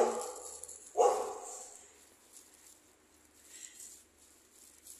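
A dog barks on a street in downtown Beirut, with a short burst near the start and one sharp, loud bark about a second in, followed by faint street ambience.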